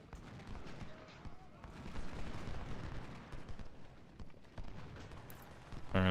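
Artillery and musket fire in the Civil War strategy game Ultimate General: Civil War, a continuous rumbling barrage of distant booms and crackling volleys, mixed with hoofbeats and someone talking.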